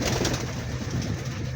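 Pigeons in a family flock coo in low, throaty rolling calls, close and steady throughout.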